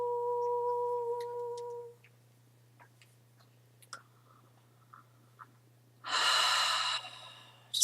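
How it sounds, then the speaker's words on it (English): A person breathes in and out slowly during a light language healing session, a single loud, close breath rising near the end after a steady held tone fades into quiet. "Just breathing in and out."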